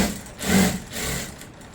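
A sewing machine stitches salwar pant fabric along an edge in two quick bursts, a close, fast mechanical whirring that pauses briefly in between.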